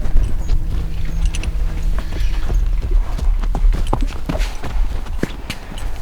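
Horse hooves clip-clopping across a field, a steady uneven run of soft thuds over constant outdoor background noise, moderately close and continuing throughout.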